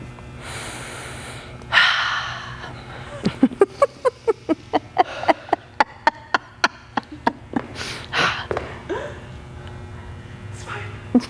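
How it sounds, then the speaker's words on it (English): Heavy breathing during a home workout: sharp, rhythmic forceful exhales in a rapid even series, each a short puff, bracketed by louder gasps and sniffs. "Breathe, guys, breathe. Don't forget to breathe."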